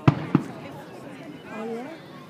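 Two sharp, loud fireworks bangs go off close together in quick succession, then a voice starts speaking over a quiet background.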